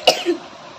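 A child gives a single short, sharp cough, close and loud, then the sound fades into a quiet room.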